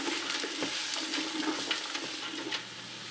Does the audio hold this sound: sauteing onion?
yes